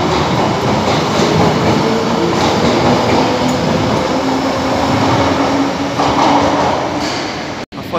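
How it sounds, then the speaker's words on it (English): A London Underground Piccadilly line train rumbles loudly and continuously from up close, with a droning motor whine and rattling carriage noise that stays dense throughout. "And this is the Piccadilly line."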